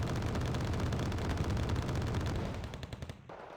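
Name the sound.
gunfire in video game Wargame: Red Dragon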